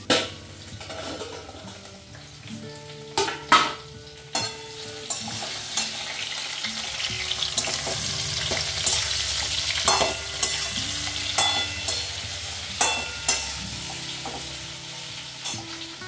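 Drumstick and potato curry sizzles steadily in a pan, with repeated scraping and clinking stirs of a spoon against the metal at irregular intervals, close and continuous with no talk.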